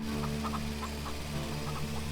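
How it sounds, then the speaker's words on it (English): Chickens on a farm in the Farm Together video game cluck in short soft bursts over a steady low hum of game background sound. "Hi chickens, how you doing?"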